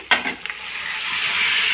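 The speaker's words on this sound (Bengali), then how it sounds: "পেঁয়াজ দেখুন আদা টমেটোর সঙ্গে ভাজা হয়ে গেছে এবার আমি দিয়ে দেবো তরকার সেদ্ধ ডালটা" A spoon stirs fried onion, ginger and tomato together with boiled lentils in a pan for an egg tadka. Scraping strokes come at the start, then a steady frying sizzle that builds and continues alone to the end.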